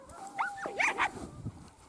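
A dog lets out a short, high yelping bark and whine, a single brief outburst close by.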